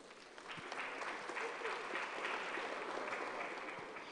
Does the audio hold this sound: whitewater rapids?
no